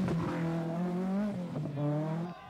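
A Ford RS200 Group B rally car runs off the throttle through a crowded 1986 World Rally Championship stage, its engine note held steady and loud close by, then dropping away briefly near the end.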